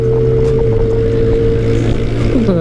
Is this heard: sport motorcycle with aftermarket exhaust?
yes